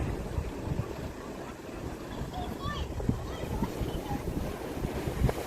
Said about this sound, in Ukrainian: І океан хлюпочиться.